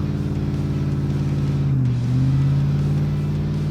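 A heavy Ford Expedition SUV with a 5.4-litre V8, weighing about three tonnes and on BF Goodrich tyres, labours off-road, its deep engine drone loud and steady with a brief pitch dip and rise midway.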